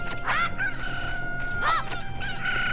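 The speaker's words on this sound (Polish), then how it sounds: "Molestowanie kurczaka kończy się bardzo źle." A Cucco chicken in The Legend of Zelda: Ocarina of Time gives two shrill, rising crows with clucks, about a second apart, clear and upfront over quiet game background.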